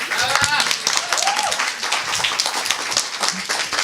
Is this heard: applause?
yes